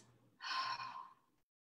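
One slow, deep breath pushed out through the mouth during a yoga breathing exercise, a soft, airy whoosh that swells and then fades, close and quiet with no talking.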